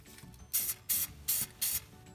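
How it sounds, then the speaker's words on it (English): Four short hissing bursts of aerosol spray applying anti-rust coating onto steel brake line parts, evenly spaced, close and fairly loud. "Now let's go ahead and spray this down here,"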